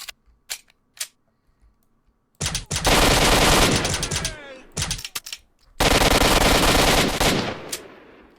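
Automatic gunfire from a machine gun in S.T.A.L.K.E.R.: Shadow of Chernobyl comes in two long, loud sustained bursts, with a few isolated single shots before them.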